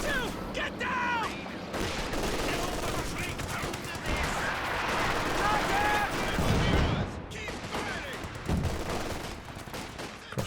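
MG-42 machine gun fire in a Company of Heroes 2 World War II battle: rapid bursts and scattered shots, loud and continuous, alongside other battlefield noise and voice-like game sounds.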